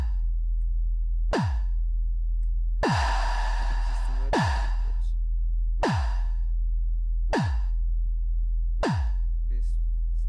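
Deep kick drums synthesized in Serum thump at a steady pace, about seven hits, each with a breathy burst of layered noise on top over a constant low hum.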